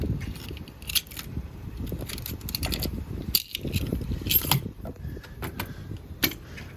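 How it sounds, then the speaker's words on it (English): Metal keys jangle and clink as they go into a small lockbox, with mechanical clicks and scraping close by over a steady low background rumble. "Put the keys in the lockbox, and you're finished."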